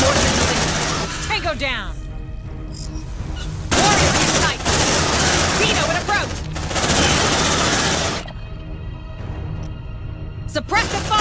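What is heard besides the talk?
sentry gun firing, from video game Aliens Dark Descent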